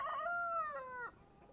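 A single chicken call, a loud drawn-out crow rising then falling before cutting off, close by and alone.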